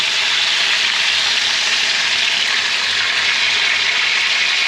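Chicken wings sizzling in a pan after being stirred, a steady loud frying hiss that holds evenly from start to finish, close up with no voices.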